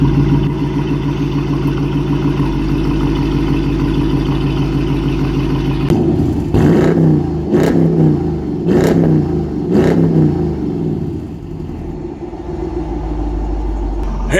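A 2025 Dodge Durango R/T Hemi V8 with Carven exhaust tips sits idling with a deep, steady rumble, then gets several sharp throttle blips that rise and fall before it settles back to a loud idle.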